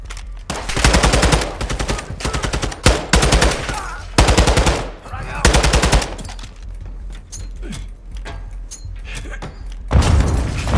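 Rapid automatic gunfire rings out in Call of Duty Modern Warfare 2, loud bursts of machine-gun fire in several strings with short gaps, followed by quieter scattered shots and a final burst.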